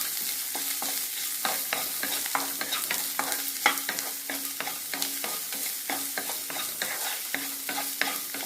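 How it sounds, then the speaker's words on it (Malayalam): Chopped onions fry in a pan while a utensil stirs them in quick repeated scrapes and taps over a constant close sizzle, with no talking. "നമുക്ക് അരിഞ്ഞു വച്ചിരിക്കുന്ന സവാള ഇട്ട് കൊടുക്കാം. നല്ല രീതിയിൽ ഇളക്കി കൊടുക്കാം."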